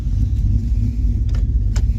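A cammed 2003 Chevrolet Silverado pickup engine idling with a loud, deep, lumpy rumble, heard close for a couple of seconds with a few faint clicks on top.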